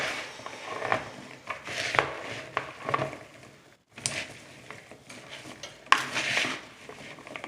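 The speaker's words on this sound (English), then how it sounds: "I'm just going to mix everything up." Chicken being mixed by hand with pureed jerk seasoning and grapeseed oil in a bowl, giving close, wet stirring and squelching with light clinks of a utensil against the dish, in irregular bursts with a brief pause partway.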